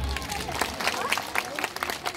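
Audience applauding the mayor at a Romanian village festival for Victoria commune day, a steady wash of clapping throughout under a live event mix.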